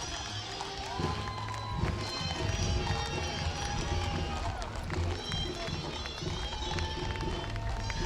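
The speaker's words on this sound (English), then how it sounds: "this young lady and wow. her gray horse" Gray horse's hooves clopping along a strawberry festival parade route in Garden Grove, a rapid, busy patter of steps under crowd noise and someone talking nearby.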